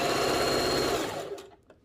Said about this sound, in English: then you're gonna keep sewing